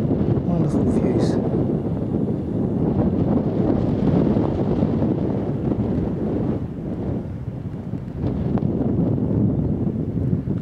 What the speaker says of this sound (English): Bit windy here, so I hope that's not interfering